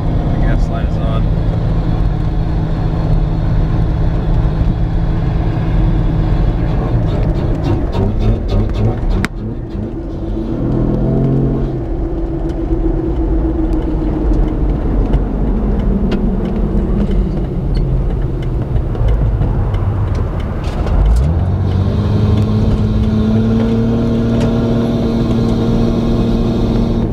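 Jeep Wrangler fitted with a Spectre air intake, a loud, close engine drone with rising and falling revs and intake whoosh as the gas is pressed, speech heard over it.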